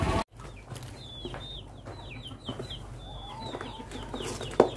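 Short chirpy chicken calls repeat over a steady farmyard hum, a few birds clucking and peeping at moderate distance with no voices.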